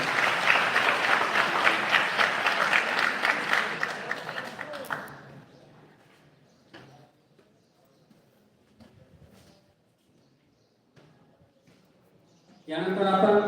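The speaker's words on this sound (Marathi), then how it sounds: "एकदा त्यांच्यासाठी जोरदार टाळ्या वाजवा" An audience at a college event claps loudly for about five seconds, then the applause fades into a quiet hall with scattered small sounds before a voice begins.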